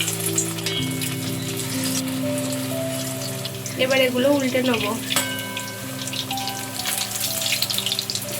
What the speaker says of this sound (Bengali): এবার এগুলো ভেজে নেব।